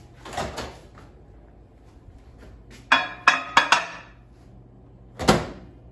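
A few clattering knocks and clicks, then a firm thud of a microwave door shutting nearby, no voices.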